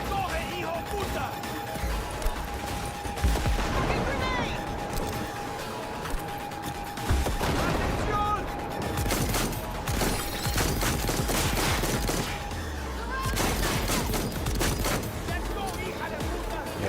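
Combat gunfire in Cyberpunk 2077 on a PS5 Pro: dense bursts of rapid shots and impacts come in waves over busy game noise, with talk mixed in.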